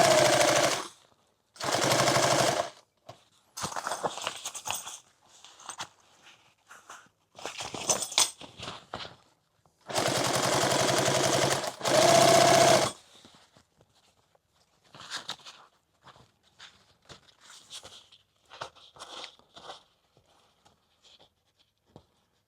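A sewing machine stitches a padded helmet bag in loud, rapid bursts of a couple of seconds each, separated by silences and quieter handling clatter.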